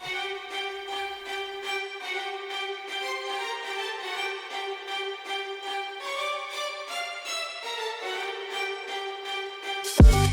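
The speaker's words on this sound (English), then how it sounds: "Which is just a really fun string pattern." A bright, playful string pattern plays alone in a steady rhythmic figure of repeated plucked or bowed notes, fairly loud throughout, ending in a short burst of noise.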